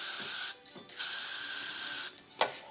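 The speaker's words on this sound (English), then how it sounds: "start to spray it" Hairspray hisses from a can onto a synthetic wig in three bursts: a half-second spray, a longer steady one of about a second, then a short final puff, all close and crisp with no talking.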